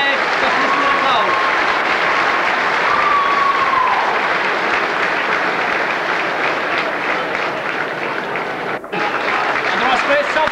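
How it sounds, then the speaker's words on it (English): Stadium crowd at a 1986 Tipperary senior hurling semi-final applauding an injured player, sustained loud clapping from the stands with a commentator talking over it. "the crowd appreciating his display"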